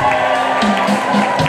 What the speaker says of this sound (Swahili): mpe Yesu shangwe na vigelegele